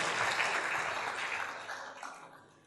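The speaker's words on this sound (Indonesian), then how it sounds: "Yang setuju berikan tepuk tangan yang meriah buat Tuhan." A church congregation applauds during a sermon, with dense, steady clapping that holds strong and then gradually fades away.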